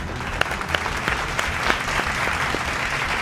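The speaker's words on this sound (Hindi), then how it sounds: "आप लोगों की पुरज़ोर तालियों में गुजारिश करूँगा" An audience applauds at a studio recording of a guessing game show, giving dense, steady clapping throughout with a few sharper claps standing out.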